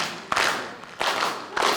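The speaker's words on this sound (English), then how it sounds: "Come on everybody and clap your hands real loud" Concert audience at a high school pops show clapping hands together in three loud, spaced bursts, close and rhythmic.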